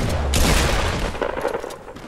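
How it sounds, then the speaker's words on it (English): Minigun fire in the Fortnite battle royale video game, a loud dense burst of rapid continuous shots that rolls on for a couple of seconds before thinning out. "Oh, on our left, minigun."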